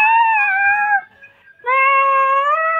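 Two drawn-out, loud cat meows close by, the first fading into a brief pause before the second, higher-pitched call rises and holds.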